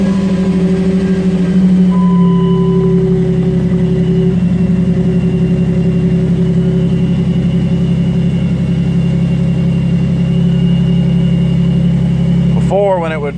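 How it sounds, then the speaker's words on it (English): A cold Jeep engine fitted with a Ripp supercharger runs at a steady, deep, even idle, loud and close, with a brief squeal near the end; someone talks over it at times. "we'll unplug it and see if it fires up, see how she runs"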